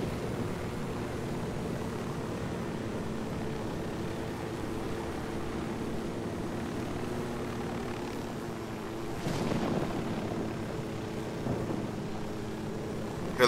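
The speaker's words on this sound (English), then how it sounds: "Helicopter drive-by." Helicopter in the open-world shooter Ghost Recon Wildlands passing by, a steady droning rotor and engine rumble that swells briefly as it draws close, then settles back into a continuous hum, with no talk over it.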